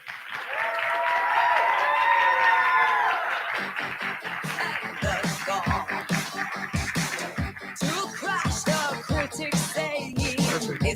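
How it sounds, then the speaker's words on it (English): A class audience at a TED-style presentation applauds its speakers, a loud burst of dense clapping with a few cheers that then thins into scattered, separate claps. "give a special thanks to Brother Hacky"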